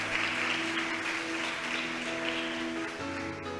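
A church congregation in a Spanish-language service applauds the Lord. A soft, even wash of clapping comes from a distance, with sustained musical tones held underneath it.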